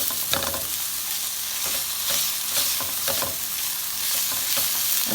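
Broken-up shrimp frying in a pan for fried rice, a loud constant sizzle with repeated scraping strokes of stirring, close and alone without speech.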